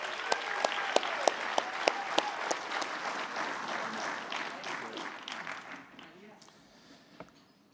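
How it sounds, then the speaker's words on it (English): Another round of applause from a banquet audience at an awards ceremony: sharp individual claps ring out over a dense crowd clapping that swells, then gradually thins and fades away toward the end. "Let's give Bob Barker Sr. one more round of applause."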